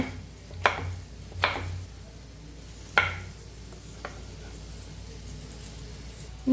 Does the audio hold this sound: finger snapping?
no